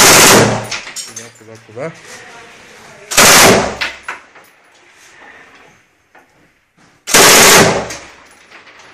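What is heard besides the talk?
commander firing a machine gun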